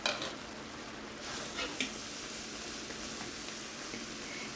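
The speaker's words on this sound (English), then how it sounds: "we're just going to add in our flour to that butter, and I'm going to whisk that up" Flour is whisked into melted butter in a pan, making a quiet, steady sizzle with soft scraping strokes and a few brief clinks of the whisk near the start.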